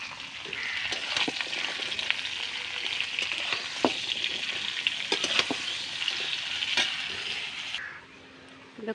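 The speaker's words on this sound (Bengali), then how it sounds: "এবার সজনেটা ভেজে নেবো উপর দিয়ে, একবারই ভেজে নেবো" Potatoes and drumstick stalks fry in hot oil in a pan for a mustard curry, a loud steady sizzle broken by sharp crackles and stirring scrapes, then the frying fades quieter near the end.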